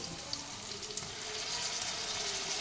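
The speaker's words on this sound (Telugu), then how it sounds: "అల్లం వెల్లుల్లి పేస్ట్ కూడా కొంచెం వేగాలండి" Ginger garlic paste sizzling in a hot pan for mutton curry, a close, steady frying crackle that grows slightly louder, with a couple of sharp pops and no talking.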